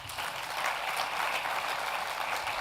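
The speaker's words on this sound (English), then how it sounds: "Give a round of applause again" Steady, moderately distant applause from a crowd at an awards gala, continuous clapping throughout with no pauses.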